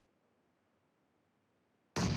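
A bomb goes off in a first-person shooter game. It comes as a single sudden, loud blast after near silence and cuts off abruptly at the end.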